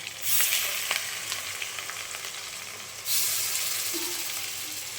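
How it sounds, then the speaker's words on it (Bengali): Four fish pieces frying one by one in well-heated oil over a low flame: a soft, continuous sizzle that swells louder as pieces go in, with faint clinks of handling and no talking. "দিয়ে দেবো এক এক করে মাছ চার পিস করে ভেজে দিই"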